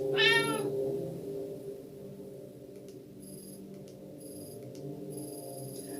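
A cat gives a single short, clear meow right at the start in the video game Tokyo Dark Remembrance. A low ambient hum and a few faint high electronic chimes follow, with no talking.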